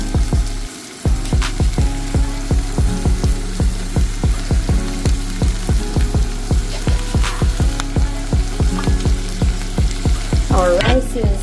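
Chopped vegetables for fajita bowls fry in a hot pan with a steady crackling sizzle, broken by rhythmic scraping taps as they are tossed and stirred, loud and close throughout.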